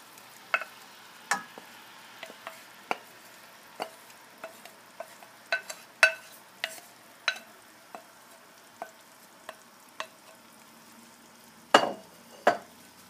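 Shrimp for shrimp scampi sizzle quietly in a frying pan, a soft bed of frying hiss broken by scattered sharp pops and crackles, including a louder burst near the end.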